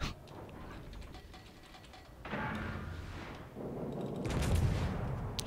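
Ship guns firing AP shells in the naval combat game World of Warships, with deep booming salvos and rumbling impacts that swell in two bursts over steady background battle noise, with no talk.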